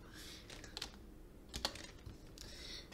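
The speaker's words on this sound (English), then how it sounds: "now I'm gonna type dot lower at the end of it" A few scattered keystrokes on a computer keyboard during Python coding, faint, soft and close, in short irregular bursts.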